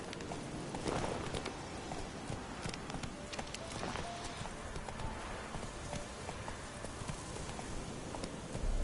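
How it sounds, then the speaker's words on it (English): A horse gallops in The Witcher 3 video game, with rapid, continuous hoofbeats loud and close throughout over a dense, busy game soundscape. "Run, Roach."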